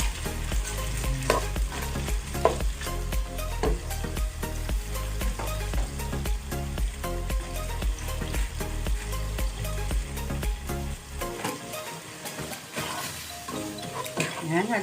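Arroz caldo with ox tripe sizzles loudly and continuously in a pot just after fish sauce goes in, with steady scraping stir strokes throughout and a brief lull near the end.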